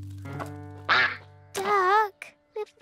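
A cartoon duck quacks several times up close in bright, nasal bursts, with short pauses between calls over a faint, steady musical backing.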